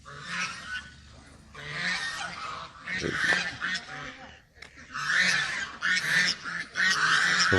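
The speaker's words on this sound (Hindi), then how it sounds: "तो माशाल्लाह डक्स पाली हुई है उन्होंने अल मुस्तफ़ा कैटल की। शोर शराबा ये घर का।" Ducks and geese on a cattle farm honk and quack in loud, overlapping bursts close by, a noisy chorus that keeps going with brief lulls.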